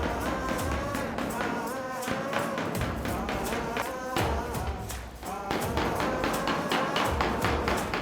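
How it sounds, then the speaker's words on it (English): Rapid metallic blows of a body hammer on a spoon, working out a dent in a Willys Wagon steel roof, ring out in a steady, dense rhythm, close and loud, with a brief pause midway before the tapping resumes. "he used the spoon again with a hammer on the outside to continue working out that dent"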